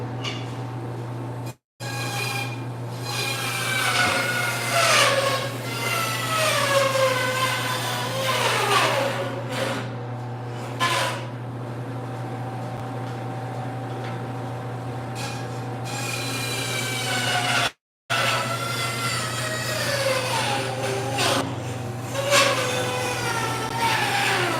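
A blade saws through burnt wood and resin knife scales with continuous rasping strokes, close and fairly loud, broken by two brief pauses, and no one speaks.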